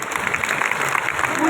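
A rally audience in Nandgarh, Haryana claps in a dense, steady burst of applause that holds throughout and grows slightly louder at the close.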